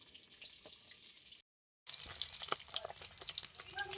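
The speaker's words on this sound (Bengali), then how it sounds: "মাছ ভাজতে বসিয়ে দিয়েছি" Boal fish sizzling in hot oil, a continuous crackling hiss with popping spatters, briefly cut to silence and then resuming louder with sharper pops.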